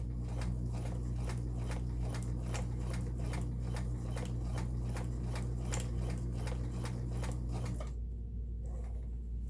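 A Kenmore 1802 sewing machine stitches a satin stitch with a fast, even ticking of the needle over a steady motor hum, close and moderately quiet, stopping abruptly near the end.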